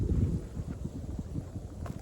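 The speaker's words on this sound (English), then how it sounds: "It's so windy right now, my phone's about to fall." Strong outdoor wind buffets a phone microphone, producing a low, uneven rumbling roar that swells and dips close to the mic with no other sounds.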